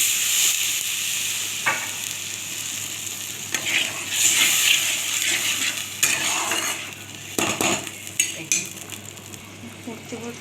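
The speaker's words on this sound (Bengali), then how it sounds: "এরপর আমি জলটা ঢেলে দিচ্ছি।" Water is poured into a hot pan of frying spices with mustard paste and green chillies, throwing up a loud sizzling rush, followed by clattering utensil scrapes against the pan.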